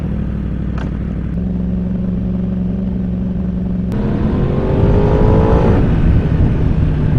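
A 2016 Yamaha R1 sport motorcycle engine holds a steady idle-like drone, then revs up with a rising whine as it accelerates, loud and close, with wind noise building.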